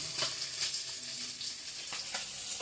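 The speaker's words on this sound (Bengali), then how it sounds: "এদিকে মাছগুলো ভাজা করে নিচ্ছি" Fish frying in a pan gives a steady, quiet sizzle with faint scattered pops, low in level, heard alone with no talk.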